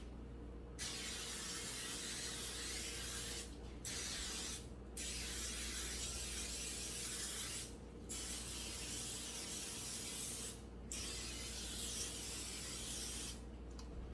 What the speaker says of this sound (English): let's spray our pans